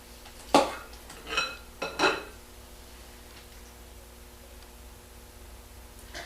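Deviled egg filling is scooped into halved egg whites, three or four light clinks of a spoon against a dish close by, then quiet with faint room hiss.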